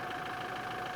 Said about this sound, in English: When you've got that engine going and you're driving along the road, you get tire noise